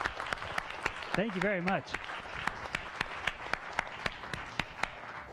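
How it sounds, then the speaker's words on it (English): Applause from a science café audience rises and holds for several seconds as clapping fills the room, while someone briefly speaks over it near the start. "Let's give him a round of applause."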